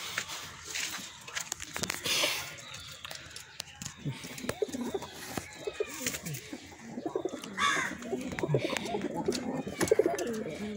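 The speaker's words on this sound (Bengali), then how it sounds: "কবুতর" Pet pigeons in a loft, one sitting on eggs, coo repeatedly at close range with some chirps and rustling mixed in, while faint voices are heard in the background.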